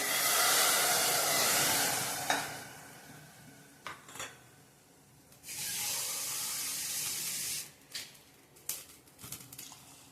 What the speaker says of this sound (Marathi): त्यात पाणी ओतायचंय